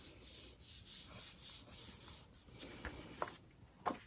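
A hand presses and rubs patterned paper down onto a card, giving soft rhythmic brushing strokes close up, followed by a few light taps and scrapes, quiet with no talking.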